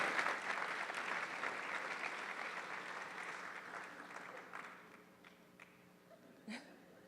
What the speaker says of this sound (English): Let's give a huge round of applause for Winter Park High School's Super Scholars.